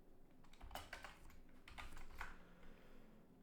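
Code typed on a computer keyboard: a few quick, soft clusters of keystrokes at close range, quiet and otherwise alone.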